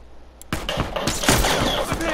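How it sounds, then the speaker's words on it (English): Rapid gunshots from The Last of Us multiplayer, a burst of sharp cracks in quick succession at close range, loud and dense, with a player talking over the firing. "I just shot one to death."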